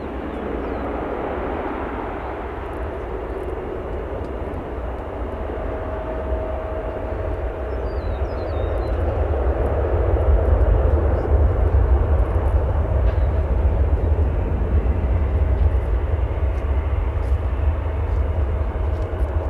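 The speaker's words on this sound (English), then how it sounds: "Now one of more than a dozen aircraft waiting to find their gate." A large airliner taxis slowly at O'Hare Airport among a queue of other aircraft, its steady low jet-engine rumble holding close and loud, swelling slightly midway, with a faint tonal whine layered over the broadband roar and no talk.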